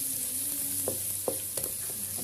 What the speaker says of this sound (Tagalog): Fry with white onion.